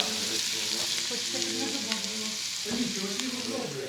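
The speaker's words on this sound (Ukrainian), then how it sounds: "для того, щоб воно також все разом просмажувалося" Steady, loud sizzling of vegetables frying in a hot pan, with occasional stirring scrapes and clinks throughout.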